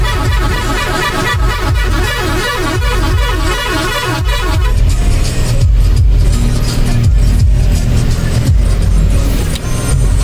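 A car driving on the road after a tyre change, its steady engine and road rumble loud and continuous throughout, with no voices.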